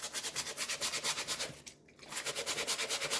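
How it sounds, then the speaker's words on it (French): A small brush scrubbing a surface in quick, regular back-and-forth strokes, close and bright, with a brief pause midway before the rhythmic scrubbing resumes. "Et je vais venir frotter un petit peu"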